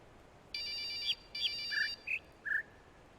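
Old Nokia-style cell phone ringtone: two short bursts of a rapid electronic trill followed by a few separate higher beeps, moderately loud over faint background hiss.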